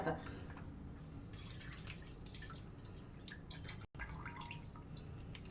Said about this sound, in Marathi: त्याच्यात मी हे दूध थोडं टाकते